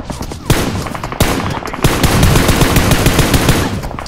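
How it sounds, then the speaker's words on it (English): Loud, close gunfire in the mobile battle royale PUBG Mobile: sharp single shots first, then sustained rapid automatic bursts that roll on densely for several seconds with no talk over them. "They are shooting me."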